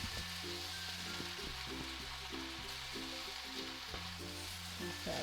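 Vegetables sizzle in a stir fry pan with a steady, continuous frying hiss that holds at an even level throughout, close and alone, with no voices.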